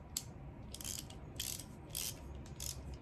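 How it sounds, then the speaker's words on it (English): Ratcheting wrench from a socket set clicking in short bursts, about five crisp ratchet sweeps spaced roughly half a second apart, close and fairly quiet over a low background hum. "You got a ratcheting wrench."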